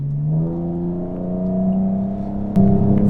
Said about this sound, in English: here's a quick update about how loud an E46 is, a straight pipe E46 is. Sports mode